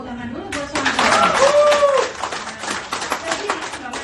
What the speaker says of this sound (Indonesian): Tepuk tangan dulu buat Swanghor.